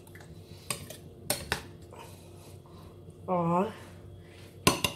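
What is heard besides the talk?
mixing onion, tomato and cucumber in a bowl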